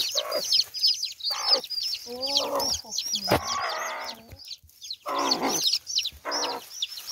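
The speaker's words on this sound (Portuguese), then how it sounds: "Eu peguei a galinha." A hen caught together with her chicks clucks and squawks in agitated bursts, mixed with faint high peeping, close by, while people talk nearby in Portuguese.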